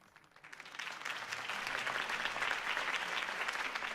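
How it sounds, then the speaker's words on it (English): Video game crowd applause in Batman: The Telltale Series builds quickly from quiet and holds as a steady, dense patter of many hands clapping. "could have heard that applause"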